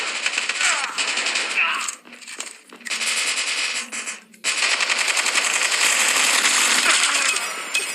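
Dense, rapid machine-gun fire and scattered shots crackle in a Call of Duty match, loud and near, with brief pauses before the firing resumes.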